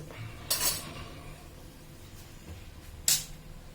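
Two sharp metallic clinks sound apart as a cup and pan are set down in a kitchen to strain oil from fried chicken, close and fairly crisp against quiet background.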